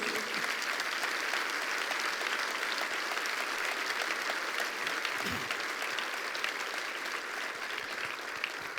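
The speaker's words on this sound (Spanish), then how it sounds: "Le damos un aplauso a Cristo todos." Church congregation applauding during a sermon, a steady, sustained wash of clapping across the whole stretch with a brief low thump midway.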